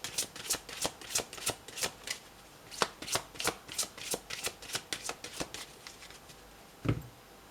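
Tarot cards being shuffled in a long run of quick, crisp riffles, about twenty bursts in an even rhythm, close and clear, ending with a louder tap of the deck, no talk.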